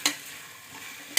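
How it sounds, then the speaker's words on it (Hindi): Mixed vegetables fry with asafoetida and cumin in a hot pan, a soft continuous sizzle bracketed by two quick scrapes of a stirring utensil. "हींग और जीरा डाल के ये सारे जितनी भी वेजिटेबल्स है ना ये सब डाल दी है। बस इसको थोड़ा देर के लिए फ्राई होने देंगे।"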